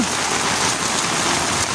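Heavy typhoon rain pours down steadily in Eastern Samar, a dense, loud hiss that stays constant throughout the short stretch with no voices.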